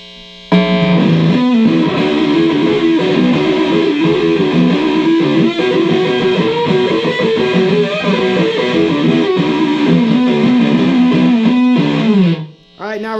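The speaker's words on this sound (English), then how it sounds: "we're gonna turn the octave off, which is this last button, and we're just gonna hear the distortion" Heavily distorted electric guitar through a Dano-Wah DW-1 pedal's distortion side, octave off, playing a steady riff with sustained, buzzy chords, loud and continuous, cutting off briefly near the end.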